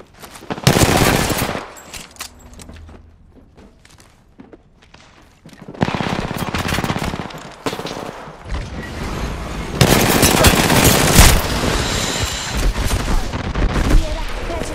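Rapid automatic gunfire bursts from Apex Legends Arenas, loud and close, arriving in several dense volleys separated by brief lulls, with faint game noise between.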